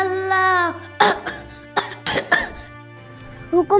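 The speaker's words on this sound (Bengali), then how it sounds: "হুকুম করলেই তোমার কাশিটা বেড়ে যায়" An elderly man in a Bengali comedy sketch coughs several times in harsh close bursts, with a drawn-out vocal sound before the coughs begin.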